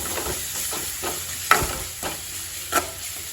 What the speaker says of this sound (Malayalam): കുറച്ച് ഇഞ്ചിയും വെളുത്തുള്ളിയും പിന്നെ 2 ചീരുള്ളിയും കൂട്ടി ചതക്കലാട്ടോ. അപ്പോൾ അത് ഇട്ട് കൊടുത്തിട്ട് ഇളക്കുക.